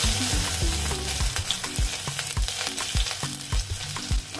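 Ginger, garlic, mustard seeds and cumin seeds fry in hot oil in a kadai, making a loud, close, continuous sizzle with rapid popping and crackling and no voices.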